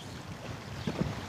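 Wind blows across an open outdoor spot by the water during a fishing competition, a soft, steady low rush with a couple of brief thumps near the end and no talk.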